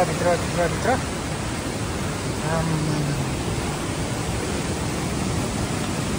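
Steady broadband rush of water flowing along a rocky Seoraksan mountain trail in South Korea, continuous and fairly close, with a voice talking briefly over it at the start and again midway.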